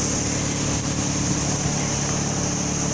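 A wheat threshing machine runs steadily with a continuous, loud mechanical drone and hum, no pauses, no voices.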